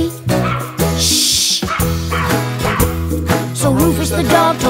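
Cartoon dog barks within a children's song, a few quick yips and woofs over a bouncy musical backing, loud and upfront.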